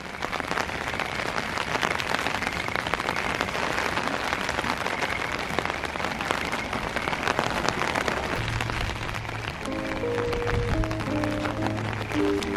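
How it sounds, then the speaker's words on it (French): Dense, steady patter of rain drums on a taut umbrella overhead, close and continuous, with faint low tones emerging near the end. "avec le bruit de la pluie sur le parapluie"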